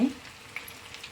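Garlic kebab pieces fry in hot oil with a soft, steady sizzle that crackles faintly throughout and is heard close up without talk.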